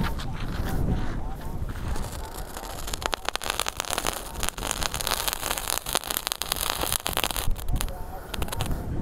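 A Kung Fu firecracker goes off outdoors in a rapid string of sharp cracks and pops lasting several seconds, loud and close, with wind noise and faint voices in the background.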